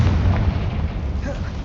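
A fiery spell blast erupts in the Hogwarts Legacy video game, a loud booming explosion followed by a rumbling roar in a busy combat scene.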